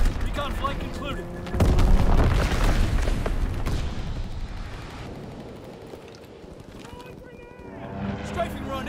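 Explosions and strafing gunfire from a World War II shooter game at a flak tower, a loud heavy boom burst followed by sustained rumbling blasts and rattling fire, with game announcer voices calling out over the action.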